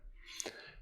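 A single quick mouse click at close range while opening the Meta Editor in MetaTrader, a sharp isolated tick over faint room hiss.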